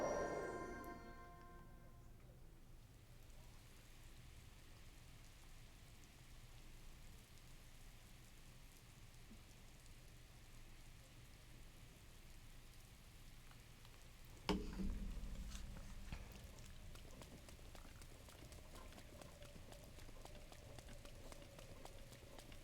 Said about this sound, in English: Why is it raining? Why is it always raining?